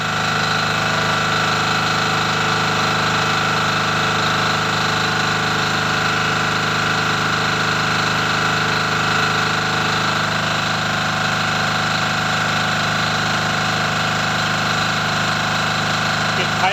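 A small inverter generator engine runs steadily with a constant mechanical hum and rattle, loud and continuous throughout with no pauses.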